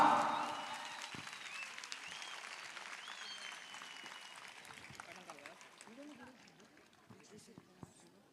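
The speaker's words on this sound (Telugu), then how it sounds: "గట్టిగా చప్పట్లు కొడదాం, గట్టిగా." Audience applauding at an Easter church gathering, a burst of clapping that starts loud and gradually thins and fades, with faint voices talking underneath as it dies down.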